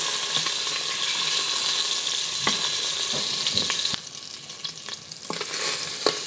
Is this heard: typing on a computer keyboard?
no